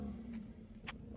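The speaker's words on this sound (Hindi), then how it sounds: "इन्होंने गाड़ी निकाल ली घर से" A family car brought out of a house idles close by with a steady low engine hum and a couple of brief airy swishes, with no talking.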